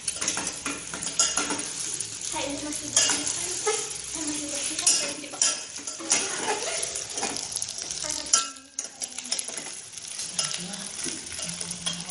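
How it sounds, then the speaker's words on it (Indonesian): Food being stirred and mixed in a pan, with repeated metallic scrapes, clinks and taps of a utensil against the pan over a faint background sizzle, close and irregular, with some indistinct voice. "Dan campurkan keduanya lalu aduk sampai merata."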